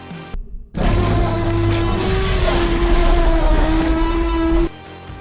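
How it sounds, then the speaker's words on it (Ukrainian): A loud, drawn-out Tyrannosaurus roar of pain from the Jurassic World Rebirth trailer, strained and wavering in pitch, over dense rumbling noise, ending abruptly. "Це незвичайний звичайний рик тиранозавра."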